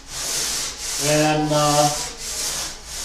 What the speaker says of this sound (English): When you're sanding both of the work pieces at the same time